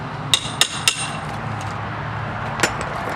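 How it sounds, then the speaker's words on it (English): Rotted exterior door trim being pried and knocked off gives three quick, sharp metallic knocks close together, then a pause and one more knock, over a low steady background. "This one is really rotted, so it's going to come off easy."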